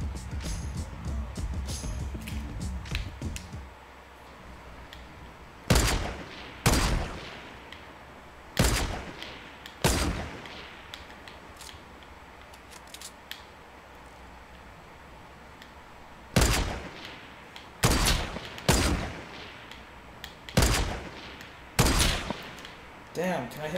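Heavy sniper shots in Fortnite ring out as sharp, loud single cracks, about nine spaced across the stretch, some in quick pairs, over a quiet game background with brief murmuring at the start.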